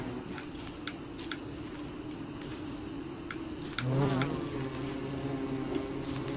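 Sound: angry bee buzzing in the video game Don't Starve Together

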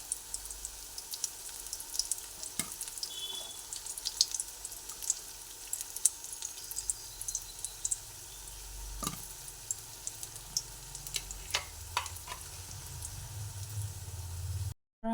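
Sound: spinach fritters frying in oil

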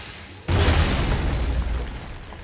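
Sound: crystal explosion in video game God of War

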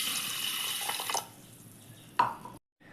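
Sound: adding water to pressure cooker

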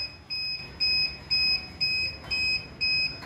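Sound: Arduino anti-sleep alarm buzzer sounding

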